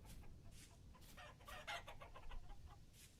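Chickens cluck in short, repeated bursts inside the survival game Vintage Story, quiet and slightly distant over a low ambient background.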